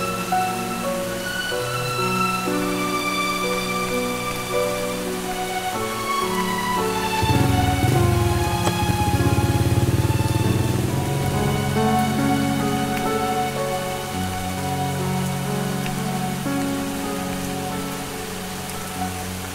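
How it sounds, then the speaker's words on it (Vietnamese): Heavy rain pouring down outside in a Vietnamese drama film, a dense, steady hiss of drops on surfaces that swells briefly midway, beneath sustained music. "Trời mưa ầm ầm ngoài kia kìa"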